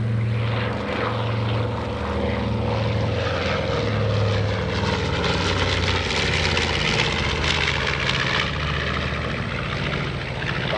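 A North American B-25 Mitchell bomber roars steadily overhead on a low-level pass, a loud sustained twin piston engine drone with deep throbbing tones that hold throughout without fading.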